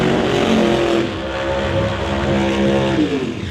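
Pro Mod Mustang drag cars with big nitrous engines launching side by side, a loud continuous engine roar with shifting tonal whine throughout.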